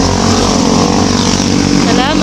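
A motorcycle engine runs steadily up close, its harmonic drone continuous and fairly loud, with people talking over it on a trip home after being stranded by heavy rain.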